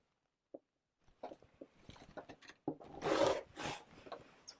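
Rotary cutter trimming quilt fabric pieces along a ruler: a tick, soft taps and shuffles, then two quiet rasping swipes close by.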